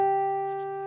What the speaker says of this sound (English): we end it with this beautiful skill called a harmonic.